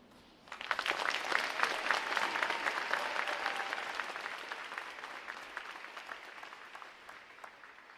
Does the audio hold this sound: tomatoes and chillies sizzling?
no